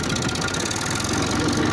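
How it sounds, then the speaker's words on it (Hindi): A tractor engine runs steadily in a farm field, a continuous rumbling mechanical drone with a faint knocking pulse, close and loud with no talking. "आप देख सकते हैं मैं ट्रैक्टर को चला रहा हूँ।"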